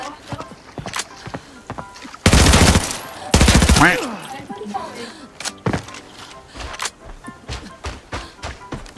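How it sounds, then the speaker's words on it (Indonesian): Bursts of automatic gunfire in a battle-royale shooter game on the Farm Land map, two loud sustained volleys followed by scattered sharper shots, with players talking over the action. "Tadi kan ada tembakan dari arah dekat motel."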